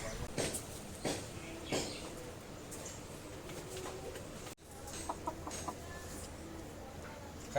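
Chickens cluck intermittently at a distance, with soft background noise and a few brief bird calls.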